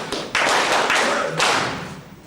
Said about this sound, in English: Give him a better clap.